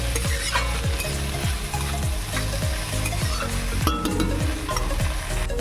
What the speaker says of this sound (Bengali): এখানে এরকম নাড়িয়ে ছাড়িয়ে ঢাকা দিয়ে দেবো।